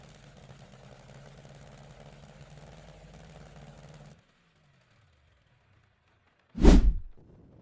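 A Pratt & Whitney R-2800 Double Wasp radial aircraft engine starts during controlled fuel testing on Swift 100 SF aviation gasoline. A low mechanical rumble cuts off into silence, then comes a single sudden, loud, sharp cough or bang.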